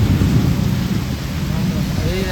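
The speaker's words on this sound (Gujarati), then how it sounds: "કડાકા ભડાકા ચાલુ જ છે" A deep, steady rumble of thunder rolls under heavy rain in Rajkot, loud and continuous for the whole moment.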